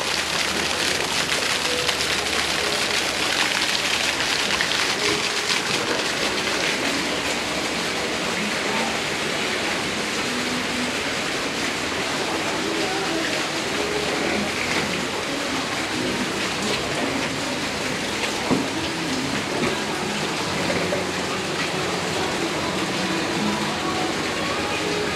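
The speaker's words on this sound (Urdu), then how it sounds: "اور میں ہو رہی ہے بارش." Steady rain pours outside a restaurant in Trang, Thailand, a dense, even hiss of falling water that holds at the same loudness for the whole stretch, with no break or change.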